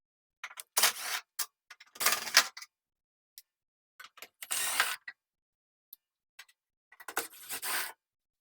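Phillips head screws are taken out of an LG front-load washing machine panel: four close bursts of ratchety, clicking screwdriver and screw noise, separated by quiet gaps and a few stray taps.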